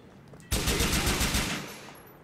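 Gunfire from Grand Theft Auto IV erupts after a brief quiet start as a rapid automatic burst, loud and close, then tails off over about a second and a half.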